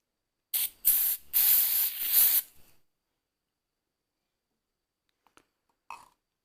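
Freeze spray from a can being sprayed while making a sissy fishing rig from a cotton swab: three or four close, loud hissing bursts in quick succession, then quiet with a couple of faint small clicks.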